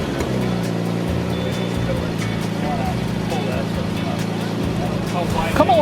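A 1970 Mercedes 280SL cruises along a road, its engine humming in a steady, close drone with road noise throughout, while a voice talks over it.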